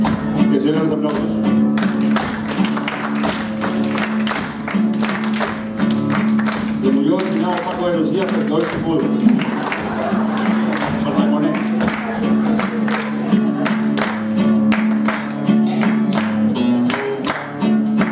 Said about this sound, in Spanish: Que sigan los aplausos.